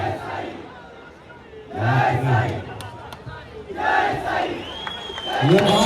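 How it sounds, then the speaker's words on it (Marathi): A crowd at a human pyramid practice camp roars and cheers in loud surging bursts, swelling twice with shouts and whistles rising over steady background noise. "टाळ्यांचा जल्लोष"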